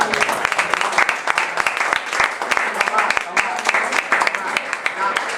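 Lively applause from a group, with dense sharp claps throughout and voices mixed in underneath.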